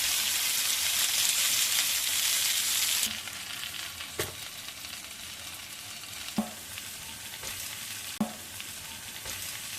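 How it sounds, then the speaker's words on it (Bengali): Semolina-coated Bangada fish sizzling in a frying pan, Goa style, with a loud steady fry that drops after a few seconds, then continuing quietly with occasional sharp clinks as the fish is turned. "মাছগুলোকে উল্টে পাল্টে এরকম ব্রাউন কালার হওয়া পর্যন্ত ভালো করে ভেজে নেবেন"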